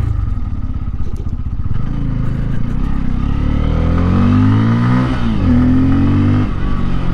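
A 2024 Bajaj Pulsar N250 motorcycle engine revs up, its pitch climbing steadily over several seconds, loud and close, with some mechanical clatter and no voices.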